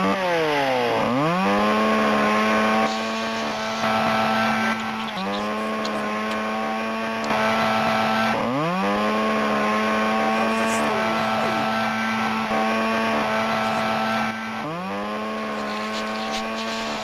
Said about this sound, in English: Oh, she pulled out the chainsaw.